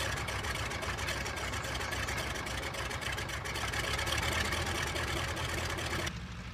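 A Stearman biplane's piston engine warming up, a steady loud rumbling drone at close range that holds throughout and drops slightly at the end, with no talk.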